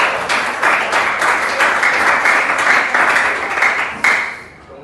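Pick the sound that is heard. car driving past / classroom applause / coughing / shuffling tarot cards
classroom applause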